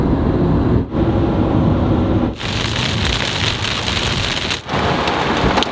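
Heavy rain pounds steadily on a car stopped on a highway between Russia and Belarus near Smolensk, a loud dense roar with a few brief dips and no talking.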